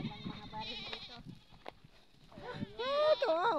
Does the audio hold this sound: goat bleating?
yes